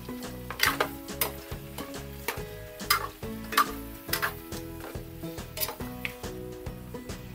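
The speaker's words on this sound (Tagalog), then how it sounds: "Pagkatapos, igigisa natin ito ng mga 5 minutes." Boiled pork hock sautéed in a pan, giving rhythmic stirring clatter and soft sizzling, with repeated scraping strokes against the pan at a moderate level.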